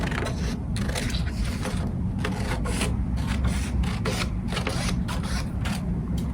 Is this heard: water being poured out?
no